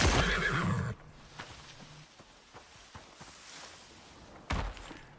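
A horse in the open-world survival game Icarus gives a loud, close neigh at the start, then quiet patter and faint clip-clop follow, ending with a short second burst.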